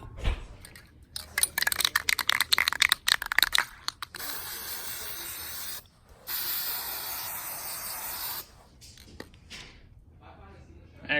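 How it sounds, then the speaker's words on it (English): An aerosol can sprays a permanent protective matte finish coat onto an engraved razorback hog skull, giving long steady hissing bursts after a stretch of rapid rattling and clicking, all close to the microphone. "So we're gonna spray that right now."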